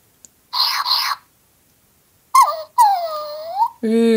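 A toy robot dog gives a string of electronic whines, chirps and a rising synthetic yelp, separated by short silences.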